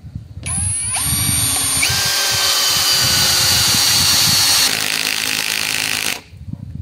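A LUDYVI BL150 cordless impact driver fitted with a 13 socket drives a bolt, giving a loud, steady whirring hammer that runs for about five seconds before stopping abruptly, with faint talk underneath.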